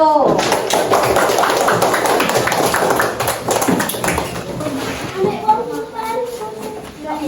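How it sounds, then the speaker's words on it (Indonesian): Scattered clapping from a classroom of children for a student group, mixed with kids' chatter and light taps, fading into talking voices toward the end. "Tepuk tangan untuk kelompok 1."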